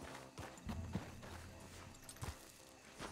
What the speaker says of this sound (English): let's just park the horse.